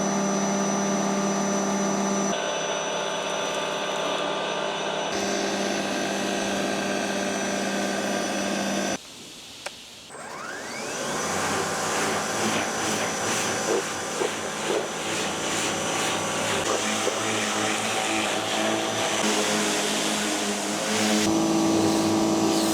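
A STIHL 36-volt cordless professional pressure washer sprays through its foaming nozzle, a steady close hiss and motor whine that cuts out briefly, then resumes fuller and louder with continuous rushing spray.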